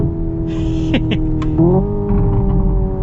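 A 2025 Hyundai Ioniq 5 N electric car accelerates hard while playing a simulated engine sound, giving a loud, steady synthetic drone whose tone holds and shifts like gear changes, heard from inside the cabin.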